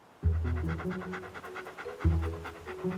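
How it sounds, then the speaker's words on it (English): A koala detection dog pants hard and close, with rapid rhythmic breaths running steadily through the whole stretch. Two heavier pulses of breath mark the start and the middle. "Bear's a koala detection dog"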